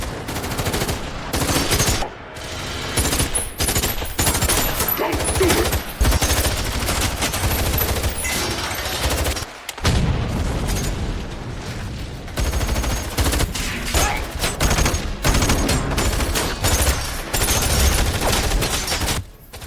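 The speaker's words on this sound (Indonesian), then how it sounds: "Peluru berterbangan kemana-mana, para penjaga Vertigo mulai memberikan perlawanan." Gunfire in a film battle scene, dense rapid machine-gun bursts and volleys crackling almost continuously, loud and close with brief gaps between flurries.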